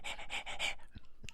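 A person imitates a dog's rapid panting, a quick run of breathy huffs close to the listener, followed by a couple of softer breaths and faint clicks.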